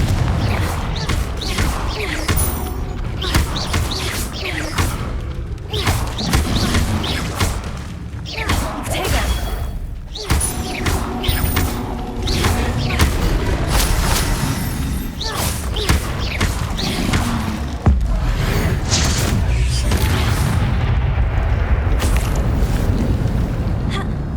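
Confringo blasting-spell explosions in the video game Hogwarts Legacy: repeated booms, thuds and whooshes in dense bursts amid ongoing combat noise, with talk over parts of it.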